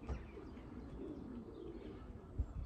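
A racing pigeon coos softly at close range in a quiet loft, a low steady murmur with a couple of brief thumps near the end.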